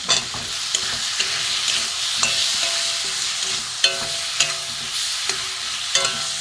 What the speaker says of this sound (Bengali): এতে একসাথে আমি এটাকে কষিয়ে নেব। এটা আমি কয়েক পিস আলু দিয়ে দেবো।